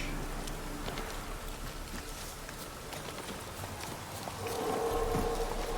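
Roach the horse trots in The Witcher 3 video game, hooves clip-clopping in a steady, even rhythm over a soft wash of ambient noise, continuous and moderately close, with no talk.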